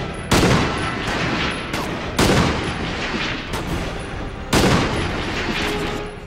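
Enemy gunfire in the Quantum of Solace video game: three heavy bursts of rapid shots at regular intervals, loud and close, with a busy rattling backdrop between them.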